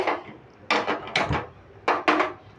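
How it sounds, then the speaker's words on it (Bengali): A metal wok set down on a gas stove in a home kitchen, a few close clanks and knocks of metal on the grate, spaced irregularly with quiet between. "আর একটা কড়াই বসিয়ে দিলাম"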